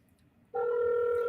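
Telephone dialing tone on a freight broker call: after a brief quiet, a steady electronic dual tone starts abruptly and holds loud and clear to the end.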